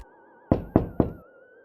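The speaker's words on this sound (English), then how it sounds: "He banged on the drawbridge with his tail." Three loud, evenly spaced knocks on a castle drawbridge, struck with a tail, each a heavy wooden thunk, with a faint steady tone running underneath.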